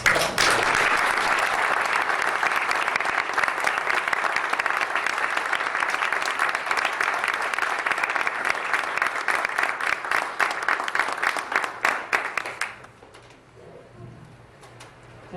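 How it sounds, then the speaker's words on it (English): Sustained, loud audience applause for speaker Tony Baxter at the 2003 20KLUTS Expo, a dense wash of clapping lasting about twelve seconds before cutting off sharply into quiet room noise. "Tony Baxter, once again, another big round of applause."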